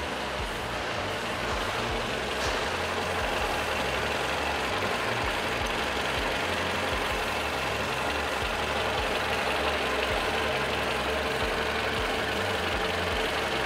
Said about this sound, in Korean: 그리고 엔진 소리도 일정하고 좋습니다